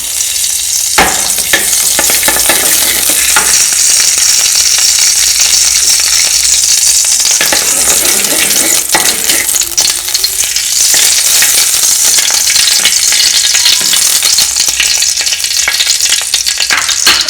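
Radish paratha stuffing sizzles loudly in desi ghee in a pan, a continuous dense frying hiss held at close range with occasional stirring scrapes and no talk.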